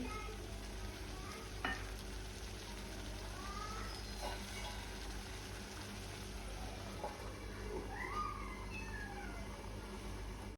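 Oil heating and kofta gravy cooking on a stove give a steady, continuous low sizzle and bubbling, with a few faint clinks of utensils throughout.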